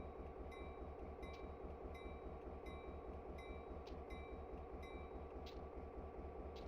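In Train Simulator 2021, a train on Alaska switching tracks rumbles low and steady, a continuous heavy mechanical drone with faint periodic clicks and brief squeals, quiet and without voices.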